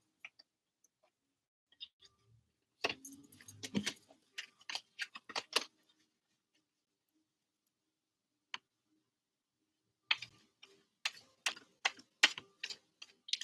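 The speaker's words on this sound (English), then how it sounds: "I'm going to keep shuffling." Tarot cards being shuffled at close range, giving soft crisp riffling bursts in two clusters separated by a quiet pause, with scattered single taps and no talking.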